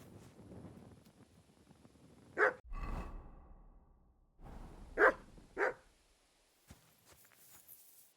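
A dog barks three times in Kingdom Come: Deliverance II, separate sharp barks spread over several seconds with footsteps and soft movement between them, and no talking.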